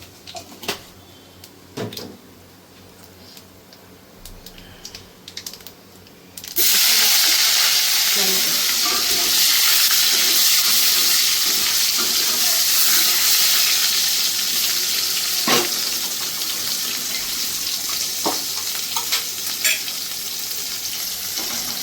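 Black cumin seeds hit hot oil left over from frying fish for a Bengali fish curry, setting off a sudden loud, steady sizzle that carries on evenly after a quieter start with faint kitchen clatter.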